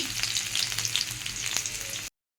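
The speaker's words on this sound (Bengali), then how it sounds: "রসুন কুচি দিলে তেলে ভেজে নিলে যে স্মেলটা বেরোয় ওটা অতুলনীয়" Nigella seeds and chopped garlic fry in hot oil with dried red chilies, a loud, dense, crackling sizzle heard close up and unbroken for about two seconds before cutting off abruptly.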